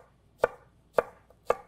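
Three crisp, evenly spaced chops of a knife slicing through cucumber onto a cutting board, each a sharp close thud with silence between, no voices.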